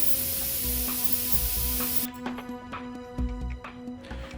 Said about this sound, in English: I'm going to use my Tamiya neutral gray XF53, and I'm going to go ahead and airbrush the areas